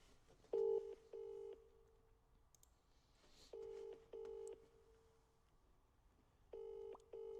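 Paired phone ring-back tones sound in three evenly spaced bursts of two beeps each, clear and fairly faint, with quiet gaps between them as a call to a person is placed.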